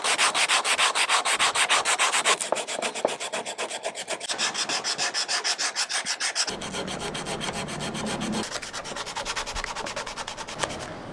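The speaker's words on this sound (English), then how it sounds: "Now I'm just gonna kinda go around with some 80 grit sandpaper and smoothen the whole thing off." Coarse 80 grit sandpaper rubs steadily over a wooden natural-fork slingshot, a loud, continuous rasping scrape in quick back-and-forth strokes that shifts in tone partway through, with no talk.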